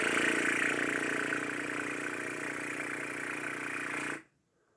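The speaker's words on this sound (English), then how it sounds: "horsey lips. Should sound like this." Brass player's horsey lips, a buzzing lip flutter held as one long, steady tone, fairly loud and close, ending abruptly after about four seconds with no talking.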